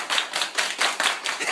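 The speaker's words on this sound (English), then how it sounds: "everybody clap your hands" A group claps hands in a fast, steady rhythm at a party, about four sharp claps per second, close and lively with no talking.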